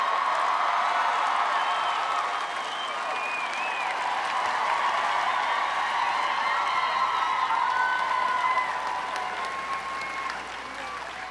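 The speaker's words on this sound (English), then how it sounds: "Please give a warm round of applause for Pearl Wenjack, Daisy Wenjack, and Gord Downey." A large audience at WE Day Canada applauds in a sustained, dense wash of clapping with scattered whoops and cheers, steady and loud before gently tapering toward the end.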